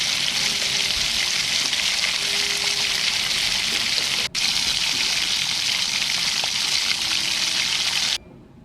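Food roasting in a hot pan with salt and pepper, a steady, loud sizzle and crackle that holds without a break for about eight seconds, with one brief dip midway, then cuts off.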